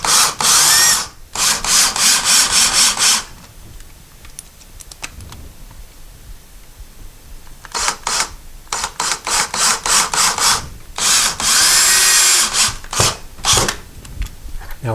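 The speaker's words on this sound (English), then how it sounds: "we're going to screw them in probably 3/4 to almost all the way in." A power drill drives screws into drywall while mounting a curtain rod bracket, heard as several loud, close whirring bursts separated by short pauses.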